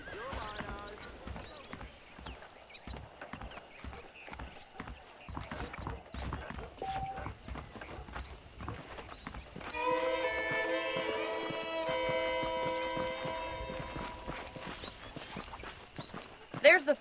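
Steady clip-clop of horse hooves walking along in Red Dead Redemption, with a whinny partway through and background game music; someone talks over the start.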